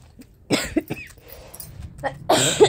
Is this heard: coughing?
yes